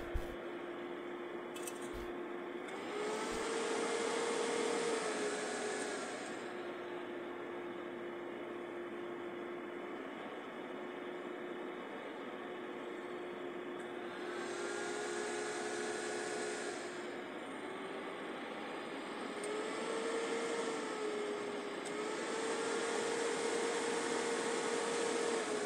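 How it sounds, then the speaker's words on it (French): HP computer fans whir loudly and steadily, with a constant hum that surges louder several times before settling back. "Les ventilateurs tournent fort"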